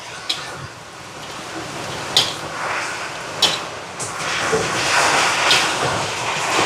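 Prawn kottu rotti is tossed and mixed on a hot pan, with a continuous loud hiss of frying broken by several sharp metallic clanks of the utensil against the pan, close up with no talking.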